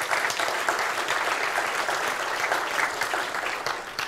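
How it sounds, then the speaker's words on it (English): A conference audience at NixCon 2023 breaks into continuous, evenly dense clapping that fills the room for a few seconds, with no talk over it. "now that's worth an applause."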